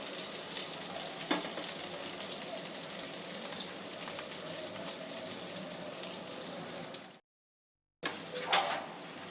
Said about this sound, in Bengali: এইভাবে মিডিয়াম লো ফ্লেমে কাবাবগুলো ভেজে নিতে হবে।